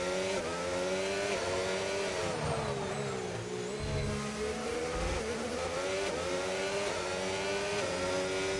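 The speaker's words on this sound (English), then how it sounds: "Gaming Minion, he's on a lap now in the McLaren" A McLaren race car in a sim racing game on the Azerbaijan circuit, its engine droning loudly and continuously, revving up and down through gear changes for the whole stretch with no voices.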